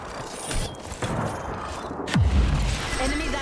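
Gunfire in the game Apex Legends rattles and booms in a noisy, dense mix, with a sharp low thump partway through and a character's voice speaking over it.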